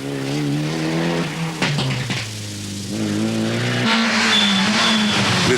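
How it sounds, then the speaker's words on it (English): Mitsubishi Lancer rally car at the 1996 Omloop van Vlaanderen, its engine note loud and close with rising and falling revs, a brief lift around the middle and tyre scrabble on the stage surface. "The Lancer running like a Swiss watch."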